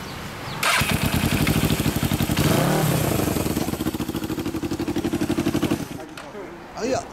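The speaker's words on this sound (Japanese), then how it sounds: "次これなんていうバイク？あ、ホーク。 そうやね、これエンジン音聞かせて。" A 1977 Honda Hawk II motorcycle engine runs close by, firing in a steady rapid pulse with a brief rev in the middle before cutting off, and a short voice follows.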